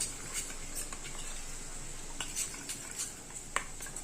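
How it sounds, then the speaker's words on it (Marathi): A spoon stirs cornflour paste in a small bowl, giving soft irregular clicks and light scrapes, fairly quiet and close. "थोडस पाणी टाकून त्याने कालवून घ्यायचंय"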